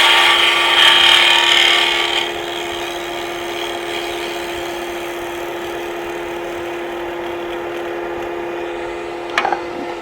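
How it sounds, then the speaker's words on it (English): A woodturning tool is sharpened against a powered grinder that hums steadily, with a brighter rasping contact at the start, then a quieter continuous whine and a brief tap near the end. "I'm going to take this tool and really sharpen it"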